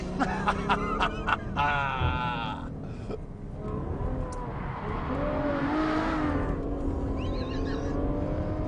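A car driven flat out for a lap of the Portimao circuit, its engine note rising and falling through gear changes with some tyre noise, loud and continuous throughout.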